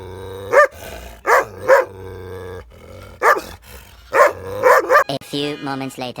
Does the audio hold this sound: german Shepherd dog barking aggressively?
yes